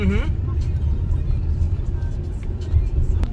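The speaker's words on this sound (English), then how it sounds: "Do you enjoy driving your new car, Cole?" A new car with a sunroof drives a scenic mountain road in Nasugbu, Batangas, its engine and tyres giving a steady low hum throughout, with a voice talking over the cabin noise.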